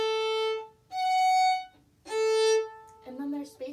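Solo fiddle plays a short phrase of the tune Liberty, bowed notes in three bursts with pauses between, clear and close with no talking.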